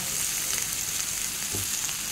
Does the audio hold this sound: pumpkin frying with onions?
yes